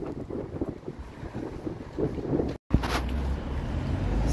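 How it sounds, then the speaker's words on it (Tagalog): Strong outdoor wind in the Netherlands roars and buffets steadily against the microphone, with one brief dropout midway. It is loud and continuous with no speech. "Tignan niyo naman, lakas ng hangin."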